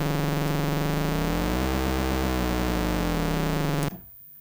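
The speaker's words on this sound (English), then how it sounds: "What you're hearing there is frequency modulation" A Cherry Audio Mercury-6 analog synthesizer with VCO2 rapidly frequency-modulating VCO1 gives a dense, buzzing, harsh sustained tone with shifting sidebands. It holds steady and loud for about four seconds, then cuts off abruptly.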